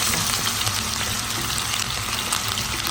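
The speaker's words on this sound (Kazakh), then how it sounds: "Баяу отта осылай котлетімізді барлығын жасап қуырып аламыз." Cutlets fry in oil over low heat, giving a steady, dense sizzle with no break for nearly three seconds and no voices.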